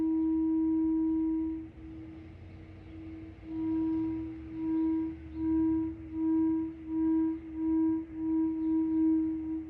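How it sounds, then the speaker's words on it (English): A sustained, wavering electronic tone from a Moog Theremini theremin on an ethereal preset drifts and swells in soft pulses, with a low rumbling hum underneath. "I'm going to kind of show you a little example of how I play the Theramin"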